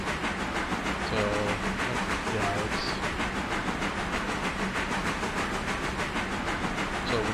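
A passenger train in the Railroader video game rolls with a steady rumbling hiss and faint clicking of the cars, continuous and fairly loud with no voices.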